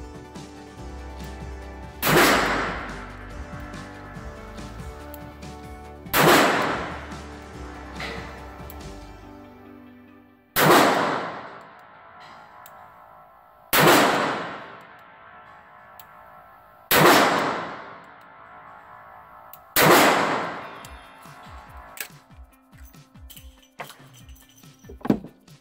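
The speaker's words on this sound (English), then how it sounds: "the Smith & Wesson Model 10 double action revolver, and I will be shooting these 6 rounds double action" Smith & Wesson Model 10 revolver fired double action, six sharp loud shots spaced about three to four seconds apart, each with a ringing decay, close and without talk.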